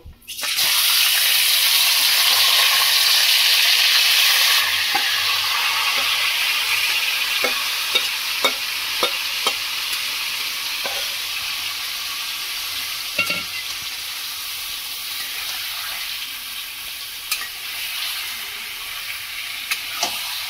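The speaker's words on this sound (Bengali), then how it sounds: "মাংসটা আমি ফোড়নের মধ্যে দেব, দিয়ে কষিয়ে নেব।" Chicken marinated for thirty minutes fries in hot oil with tempering spices for biryani, a loud continuous sizzle with scattered clinks of a spoon stirring the pan.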